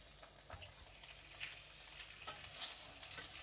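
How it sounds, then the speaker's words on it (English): Christmas turkey sizzling while roasting, a soft steady crackle and hiss with scattered faint pops throughout, heard from a short distance with no talking. "I can hear this sizzling"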